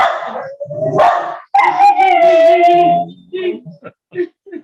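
A dog barks, then lets out a long wavering howl and several short yips, loud and close, with a voice over parts of it during a Bardo Thodol study group session.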